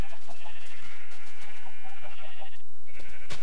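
Several sheep in the block-building game Minecraft bleating loudly and close, overlapping wavering baas that run almost without a break, with one short lull near the end.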